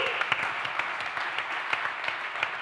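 A small podcast audience gives a brief round of light, scattered clapping, fairly faint and at mid distance.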